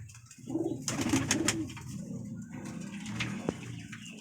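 Kasuri and golden pigeons coo close by in soft, throaty, repeated calls over a low ambient murmur, with faint bird movement.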